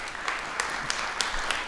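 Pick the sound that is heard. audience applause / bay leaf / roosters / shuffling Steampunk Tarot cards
audience applause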